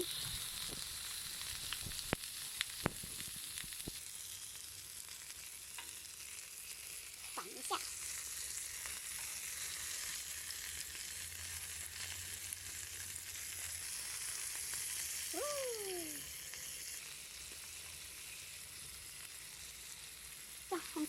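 Steady sizzling of eggplant frying in hot oil, continuous and close, with a few faint clinks and scrapes of stirring along the way.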